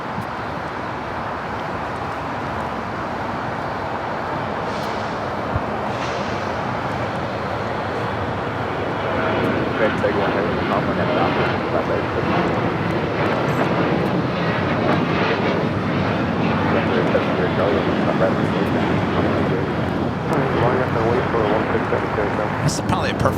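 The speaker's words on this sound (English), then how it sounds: "Our next takeoff is Southwest Airlines 518, taking off to St. Louis on a" A Southwest Airlines Boeing 737-700 takes off at LAX bound for St. Louis, its jet engines rising from a distant rumble into a sustained loud roar, while people talk over it.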